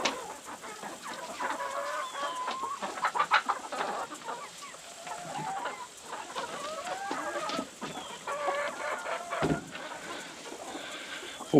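Chickens cluck and murmur steadily nearby on a farm, soft overlapping calls continuing throughout with a low background hum.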